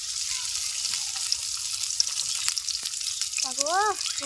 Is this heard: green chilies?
yes